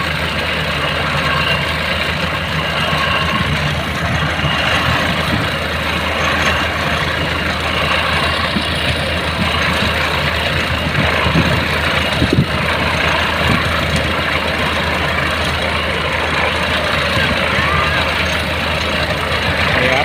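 A well-drilling rig boring a 6-inch groundwater well with a 140 mm bit runs as a loud, continuous low engine drone with steady rumble and mechanical clatter, while someone talks over it.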